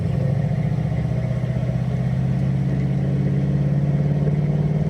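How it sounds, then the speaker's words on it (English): A Ford Mustang engine holds a steady, throbbing rumble at about quarter throttle, loud and close with an even, unbroken low drone. "So I'm just gonna get into it maybe to about a quarter throttle."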